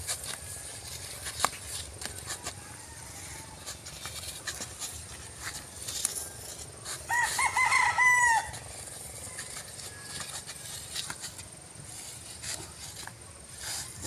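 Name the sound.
chickens crowing and clucking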